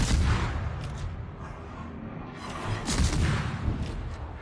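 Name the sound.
naval gunfire shooting an enemy ship in a video game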